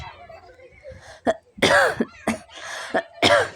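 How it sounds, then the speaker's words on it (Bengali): A person with a heavy cold coughs in a series of sharp, loud bursts spaced across a few seconds, with some breathy vocal sounds between them. "প্রচুর ঠান্ডা লেগেছিল আমার এই জন্য এত কাশি হচ্ছে"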